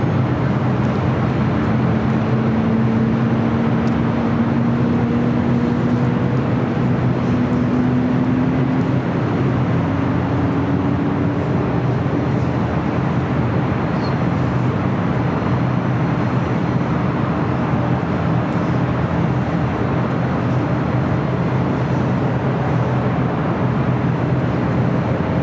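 Steady broad jet-engine roar of a DHL ABX Air Boeing 767-300ER pushing back on a taxiway at LAX, continuous and fairly close, with a faint tonal whine drifting through the constant noise.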